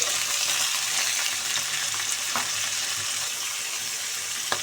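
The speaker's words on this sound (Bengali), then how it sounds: "রসুন দিয়ে দিলাম, পেঁয়াজ দিয়ে একটু ফ্রাই করে নিলাম, কাঁচামরিচ দিয়ে দিলাম। একসাথে এগুলো ফ্রাই করে নেব।" Garlic, onion and green chilies frying together in oil, a dense, loud, continuous sizzle with faint stirring movements, heard alone without any voice.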